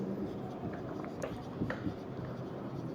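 Marker or chalk scratches steadily across a board during a maths lecture on vector spaces and subspaces, a continuous close scribbling texture with no clear pauses.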